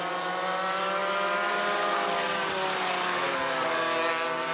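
Junior 2 Yamaha racing karts at Forks Karting Speedway during a feature race, several buzzing two-stroke engines droning loud and close in a dense, steady, overlapping whine.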